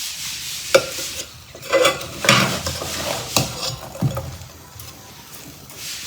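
Jaggery melting with amla is stirred in a pan, a spoon scraping and clinking against the metal in uneven strokes over a soft sizzle, close and fairly loud with no talking.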